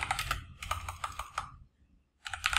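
Bursts of quick keystrokes on a computer keyboard while code is typed, two clicky runs separated by a short pause and a third burst starting at the end, close and alone with no talking.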